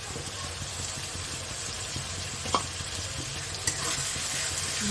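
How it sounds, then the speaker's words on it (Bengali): Tomato paste frying with ginger-garlic paste for a chicken curry, a steady close hiss of sizzling with a couple of faint spoon taps as it is stirred. "একটু নেড়ে নেব যাতে টমেটোর কাঁচা গন্ধটা চলে যায়"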